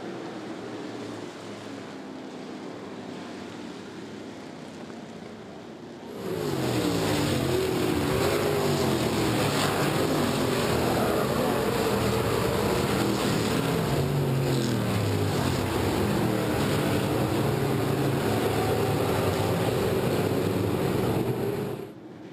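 Modified street race cars roar around a speedway oval as the field goes green, a sustained loud engine drone rising after a quieter stretch and holding steady, with a continuous broad rumble.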